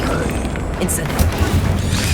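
Incendio fire spell blast from Hogwarts Legacy, a loud fiery burst with booming, crashing impacts inside a continuous, dense wash of combat noise.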